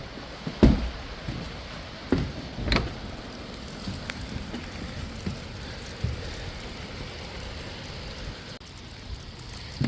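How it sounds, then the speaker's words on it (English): Heavy rain falls steadily outdoors by a shed, a dense continuous hiss broken by a few sharp knocks and thumps of drops on surfaces. "Oh, that rain is really picking up."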